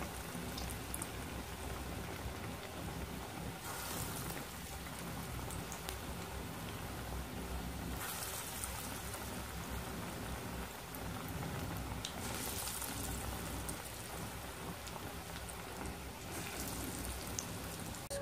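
Chana dal pakoras deep-frying in hot oil, a dense, steady sizzle and crackle that fills the whole stretch alone, with no voices.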